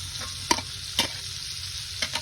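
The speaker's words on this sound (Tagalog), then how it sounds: "Magaluto natin ang sauce niya." Butter sauce for buttered pitik cooks in a pan, a constant close sizzle punctuated by a few sharp stirring scrapes, with no voices.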